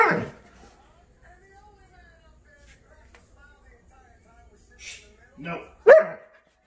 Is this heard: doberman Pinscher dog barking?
yes